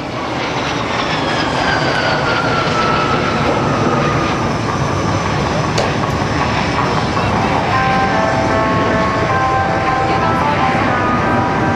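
A loud F-18 fighter jet roars steadily overhead at the 2010 NAS Oceana airshow, its pitch sliding downward as it passes, with a sustained rushing engine noise throughout.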